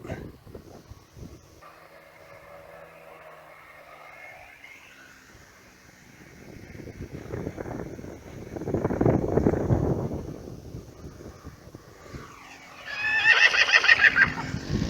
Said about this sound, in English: the horse is still hanging out